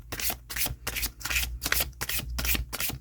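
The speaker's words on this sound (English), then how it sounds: "Let's try a shuffle." A deck of Barbieri Zodiac Oracle cards being shuffled by hand: a steady run of quick riffling bursts with short gaps between them, close and clear, with no talking.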